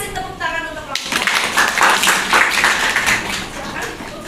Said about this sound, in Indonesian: Kita kasih tepuk tangan untuk kelompok 1.